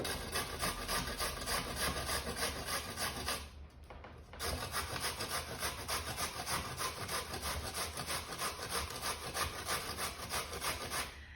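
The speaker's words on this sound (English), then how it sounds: "The grater." Vegetables for sauerkraut are rubbed against a hand grater in a steady, rhythmic scraping, close and continuous with a brief pause partway through, then resuming at the same even pace with no talk.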